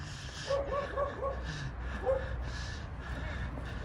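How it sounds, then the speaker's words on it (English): Several dogs bark and yelp in short bursts at a moderate distance on a street in Cha Am, Thailand, the barks overlapping irregularly over a faint background rumble. "now they're barking"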